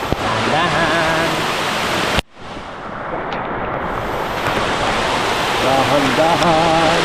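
A waterfall roars up close as a dense, steady wash of rushing water, briefly cut off once before resuming, while voices call out over it.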